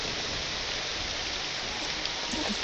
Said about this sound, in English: rain coming directly through a solid object